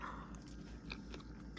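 A bite into a VILMA micro dwarf tomato, with soft, wet chewing and crunching sounds close to the mic through a short, steady stretch.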